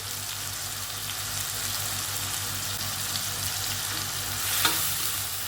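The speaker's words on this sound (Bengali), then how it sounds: "সমস্ত নাড়াচাড়া করে দেবো।" Onion, garlic, ginger and green chillies with salt and turmeric powder sizzle steadily in a pan for a Bengali egg chachori, stirred continuously, with a short sharp clink near the end.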